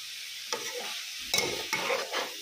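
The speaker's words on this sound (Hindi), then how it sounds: "इनको हाई फ्लेम पे इतना हम फ्राई करेंगे कि इनका पानी खुश्क हो जाए।" Cabbage, capsicum and green chillies frying on a high flame, with a steady sizzle broken by several scraping stirs of a spatula in the pan, close and fairly loud, no talking.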